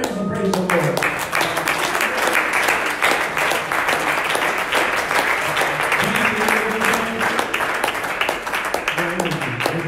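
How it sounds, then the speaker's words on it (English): A church congregation claps hands in praise during an evangelist's service, with sustained loud applause throughout and a voice speaking over it. "Clap your hands and praise the Lord."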